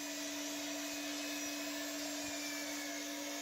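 A power tool cuts hard wood to size on the legs of an old butcher block, giving a steady, loud, continuous whining drone with a constant high hum and no pauses, heard close by.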